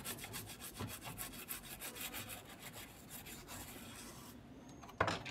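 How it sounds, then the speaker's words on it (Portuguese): A small brush soaked in isopropyl alcohol scrubs a circuit board inside a CCE HPS-1471 TV, making rapid, rhythmic scratchy strokes close up, with a short knock near the end. "Agora eu venho aqui e esfrego. Vou esfregar tudo aqui."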